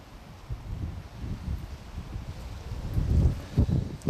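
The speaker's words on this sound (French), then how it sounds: "en ce moment, il y a beaucoup de vent." Strong wind gusting through a vegetable garden of broad bean plants beside a building, low buffeting rumbles that swell and fade in uneven bursts.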